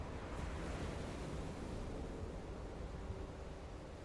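Surf breaks on a beach as a dense, steady roar of rushing water and wind, fairly distant and even throughout, with no voices.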